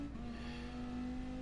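Dodge Viper race car in Gran Turismo Sport, its engine holding a steady, loud drone with a strong tonal hum throughout and no talk over it.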